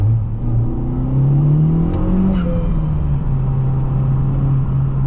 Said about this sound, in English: This high revving VTEC turbo engine, although VTEC only on the exhaust part, not on the intake because you have the turbo there, it's also a joy.